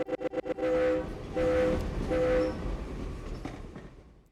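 A Twitch Hype Train alert plays as a train sound effect: a few quick chugging bursts, then three long horn blasts over rumbling, clattering rail noise that fades out.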